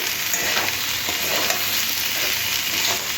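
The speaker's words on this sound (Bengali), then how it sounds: "বরবটার আলুটা খুব ভালো করে লাল লাল করে ভেজে দিতে হবে" Potatoes and long beans fry in a pan for a Bengali alu barbati dish. The sizzle is dense and steady, crackling close up without pause, and no one talks.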